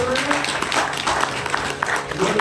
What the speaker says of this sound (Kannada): ಎಲ್ಲರೂ ಚಪ್ಪಾಳೆ ಹುಡುಗರೆಲ್ಲ ಚಪ್ಪಾಳೆ